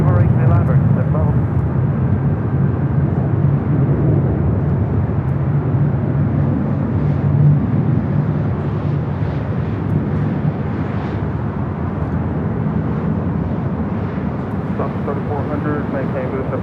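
A fixed-wing airliner at Los Angeles International Airport roars continuously as a low, heavy engine rumble. Radio chatter runs throughout.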